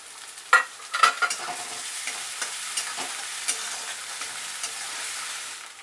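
Green chillies fry in a pan for Maharashtrian paneer chilli, giving a steady, soft sizzle that runs throughout. A few clattering stirs come early on, and no one speaks.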